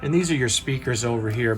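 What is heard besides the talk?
None of the usual background noises is heard.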